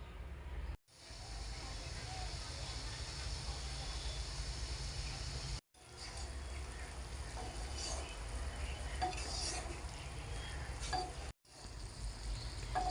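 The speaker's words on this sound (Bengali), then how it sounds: "এখন আমি ভালো করে ফুটিয়ে নেব।" Spice paste mixed with water simmers in a pan for a burnt paneer curry, giving a steady, even bubbling hiss that runs nearly unbroken at close range, with three brief dropouts and no voices.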